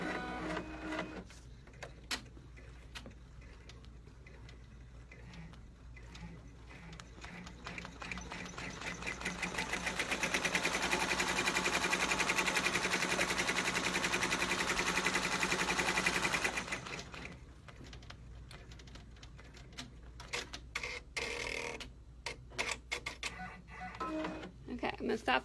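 An embroidery machine sews a tack-down stitch to fix a patch over old embroidery, its needle chattering in a fast steady rhythm that swells louder through the middle stretch before dropping back to sparser clicking.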